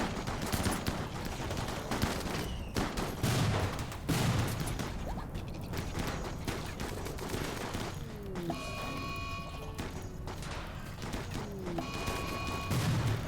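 Rapid video game gunfire in an infestation scene, dense bursts of shots rattling continuously for over ten seconds alongside crashes and mechanical clatter, with no talk over it.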